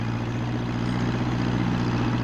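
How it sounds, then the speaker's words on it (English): A tractor engine in a Postman Pat cartoon runs steadily, a constant low rumbling drone with no voices. "but with the noise of the tractor, Peter Fogg didn't hear Pat's call"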